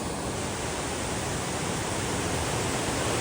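Glacier-melt river water at Mount Rainier rushes past close by, a thick, even, loud roar that holds steady throughout with no voices.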